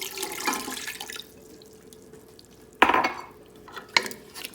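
Unsweetened apple juice and lemon juice pour into a pot of mulberries for low-sugar jam, with two short splashing pours and softer liquid noises around them, close and without talk.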